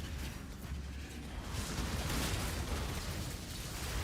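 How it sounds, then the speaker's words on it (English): Explosions in the video game Path of Exile, with a continuous rumbling wash of overlapping blasts and bursts at moderate, fairly steady loudness, and no voices. "There's a lot of explosions."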